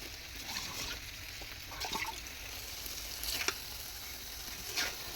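Vegetables sauté in a pan with a steady, moderate sizzle. Soft stirring scrapes and clicks surface now and then, and no one talks.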